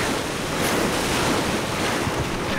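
Ocean waves in PUBG roll steadily onto a sandy beach, a loud continuous wash of surf mixed with wind, unbroken across the whole stretch with no voices.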